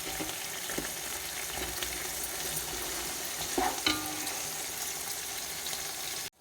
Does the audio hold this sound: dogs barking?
no